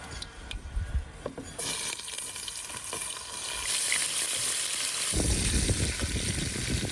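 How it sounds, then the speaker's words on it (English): Steady sizzling of beets and onions frying in a pan, growing louder partway through as more food hits the hot surface, with occasional stirring clatter. "I'm adding the beets with onions to the pan."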